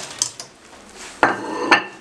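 Bread bites tipped into a pan and stirred, giving a few sharp metallic clinks and scrapes of utensil against cookware, close and clear with no talking.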